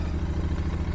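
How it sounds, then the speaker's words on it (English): A Royal Enfield Interceptor 650 motorcycle, a 2024 model, starting from cold outdoors, giving a steady low engine rumble with faint mechanical clatter throughout the brief moment. "So now all we have to do is bump the starter."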